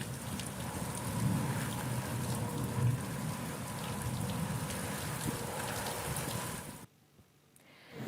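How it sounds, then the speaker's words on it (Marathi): Heavy monsoon rain with gusty storm winds in Amravati, Maharashtra, a steady, dense roar of falling water that stays loud and unbroken for most of the stretch before dropping abruptly to near quiet at the end. "आज दुपारपासून वादळी वाऱ्यासह जोरदार पावसाला सुरुवात झाली"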